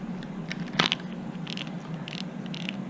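The drag on a Piscifun Venom VM4000 fishing reel is tightened by hand, producing a few close, crisp mechanical clicks and ratcheting ticks spaced irregularly over quiet background.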